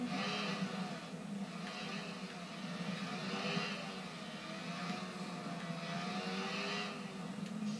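Steady engine drone of a motorcycle in the PS4 video game Watch Dogs, a continuous revving hum at even loudness throughout with no clear pauses.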